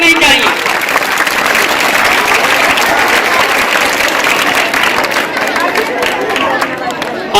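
An audience at a school annual function claps and cheers continuously, a dense, loud wash of applause with crowd noise mixed in throughout.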